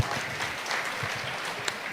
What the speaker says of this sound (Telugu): వారందరికీ గట్టిగా చప్పట్లు కొట్టి